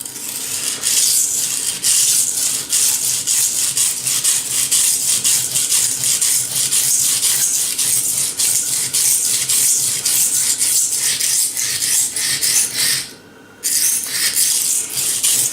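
A steel blade rasps back and forth on a sandstone in steady, rapid, close scraping strokes, continuous with one brief pause near the end.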